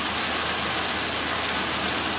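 Heavy rain pours steadily on a vehicle driving slowly along the NGP highway, a dense, loud, continuous hiss with no pauses and no voices.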